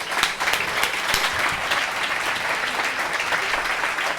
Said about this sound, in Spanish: Por favor, un fuerte aplauso a Jesús Callejo.